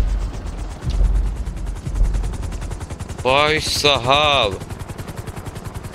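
A helicopter in GTA 5 Online, its rotor beating in fast, steady, even pulses throughout, with someone talking over it and a sharp burst of game noise partway through.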